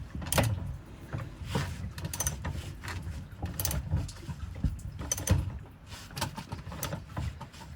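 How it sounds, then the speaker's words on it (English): A hand ratchet winds a spare wheel carrier up under a Fiat Ducato in wet conditions, giving repeated mechanical clicks and clunks in uneven bursts, close and moderately loud, with no talking. "I'm just doing it by a ratchet for today"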